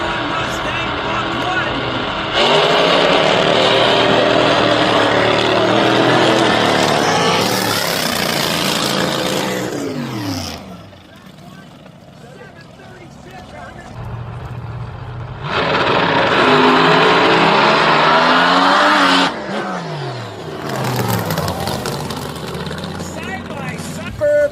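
A 1971 Ford Mustang Mach 1 drag races, its engine roaring loud through a long wide-open pass, easing off, then roaring again through a second hard run, with an announcer's voice over parts of it.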